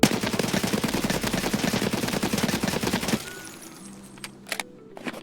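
Escape from Tarkov AK rifle fired from the hip in a long rapid automatic burst for about three seconds, loud and close, then a few scattered clicks and faint shots as the firing stops.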